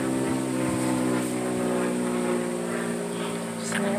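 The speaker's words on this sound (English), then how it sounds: "Just an airplane." An airplane passes overhead above a residential house, giving a continuous broad engine roar that stays steady and fairly loud throughout, with no talk.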